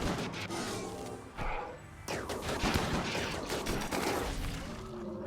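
Gunfire during a RimWorld colony battle with a mechanoid centipede, a dense, noisy stretch of rapid shots and impacts with a short lull partway through.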